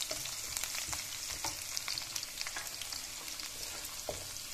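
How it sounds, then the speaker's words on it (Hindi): Garlic sautéing in a pan for restaurant-style chicken jalfrezi, a steady close sizzle and crackle with occasional stirring scrapes and no talking. "लहसुन सौते करने लगी"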